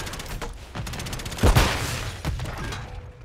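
Video game gunfire in a Stash House match: a string of sharp shots with a louder, heavier blast in the middle, then a few more reports, all close and with no talking.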